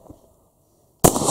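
After a brief faint murmur and a near-silent pause, an Uzkon LA887 lever action shotgun fires a single loud, sharp shot at a vegetable target, its blast trailing into a sustained rumbling echo.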